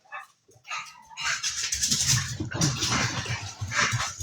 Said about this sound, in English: please excuse the dog